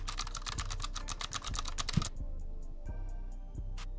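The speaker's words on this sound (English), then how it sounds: "this keyboard, it's magical, bro. Like, you hear that? Listen to this ASMR" Rapid, close clicking on a computer keyboard fills the first two seconds, then stops, leaving a few scattered key taps over low background hum.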